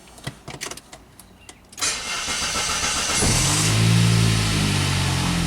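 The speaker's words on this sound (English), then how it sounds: "let's crank the engine and look at the tachometer now" A Saab 9-3 with a crank-no-start fault cranks briefly with a whirring starter, then catches and settles into a steady, close idle.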